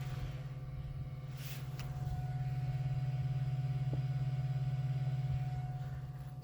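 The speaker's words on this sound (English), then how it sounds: "You can actually hear the fans running on these things." Cooling fans on NAO LED headlights fitted to a 2018 Chevy Colorado hum steadily and faintly at close range, a low constant drone with a faint whine, running alone without speech.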